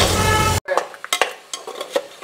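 Crab masala frying in ghee for a crab ghee roast: after a loud steady burst of sizzling, a break, then scattered scraping stir strokes and clinks of a utensil against the pan.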